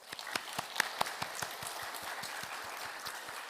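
A church congregation claps during a Sunday worship service, steady dense applause with sharper individual claps over a continuous roomy wash, held at an even level throughout.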